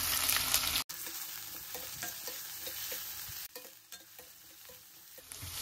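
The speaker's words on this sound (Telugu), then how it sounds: "ఇప్పుడు ఇదే కడాయిలో ఒక 2 టేబుల్ స్పూన్ ఆయిల్ వేసుకోండి. కొంచెం నూనె హీట్ అవ్వగానే ఒక 2 మీడియం సైజ్ ఆనియన్స్ ఇలా కట్ చేసుకొని వేసుకోండి." Two medium onions, freshly cut, sizzle in two tablespoons of hot oil in a kadai, a steady close frying hiss broken by occasional stirring scrapes, with no voices.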